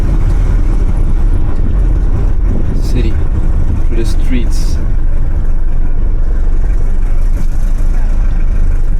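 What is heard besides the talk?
diesel car engine driving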